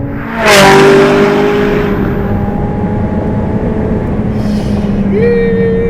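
A 2016 McLaren 675LT sports car with its rear wing raised. A sharp burst opens into a loud, steady engine drone that climbs in pitch as the car accelerates near the end.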